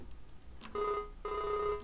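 A telephone rings in Farming Simulator 19 with two electronic ring bursts separated by a short gap, heard fairly quietly and on its own.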